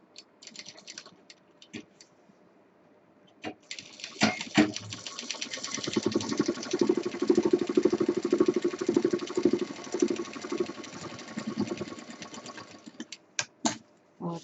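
A sewing machine stitches a cord onto fabric for a feeding bottle cover, a rapid continuous mechanical whir running for several seconds between sharp clicks and short stop-start bursts, close and moderately loud.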